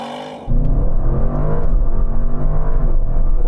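An Audi RS6 Performance launching hard under launch control, its engine note jumping from a quiet idle into a loud, sustained surge of acceleration with a rising harmonic drone and no talking over it.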